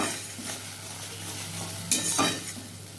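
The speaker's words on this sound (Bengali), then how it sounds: "এটা একটু নেড়ে নেব, বেশি ভাজবো না কারণ তেতো হয়ে লাগবে।" Poppy seed, mustard and green chili paste being stirred in a hot pan for Bengali hilsa fish curry, a soft steady sizzle with scraping spoon strokes and a louder burst of stirring near the end.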